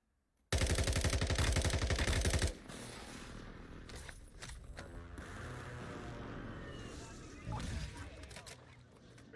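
Rapid automatic gunfire bursts loudly at first in a multiplayer video game shooter, then gives way to scattered shots, mechanical clatter and game effects, with excited players talking over the action.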